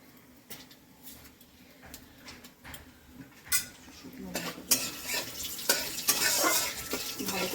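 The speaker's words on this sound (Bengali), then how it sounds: "দেবো একটু দারচিনি ভালো করে ভেজে নেব নিয়ে তারপর পেঁয়াজটা দেবো আর একটু শুকনো লঙ্কা দেবো" Cinnamon, onion and dried red chillies fry in a pan for a spiced mutton curry, with scattered stirring clinks and scrapes that build into a louder, continuous sizzle in the last few seconds.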